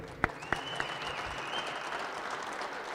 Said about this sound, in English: One more time, a round of applause for all the people who are going to put this together.